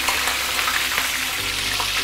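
Fish head frying in oil in a wok, a loud, dense sizzle with crackles, while a spatula and spoon scrape and turn it close by; no talking.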